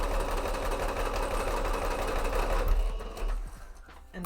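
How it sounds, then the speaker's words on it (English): A sewing machine stitches a cape mock-up with a steady, close mechanical whir that turns choppy and stuttering near the end. No one speaks. "Sometimes my sewing machine just does not want to sew."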